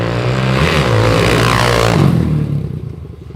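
A 1997 KTM 620 LC4 single-cylinder motorcycle roars hard on a first test ride, its engine rising under throttle before the sound fades off as the bike moves away.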